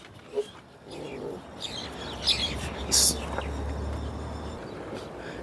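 A small bird chirps outdoors with a few short, faint tweets scattered over a low hum and quiet background murmur.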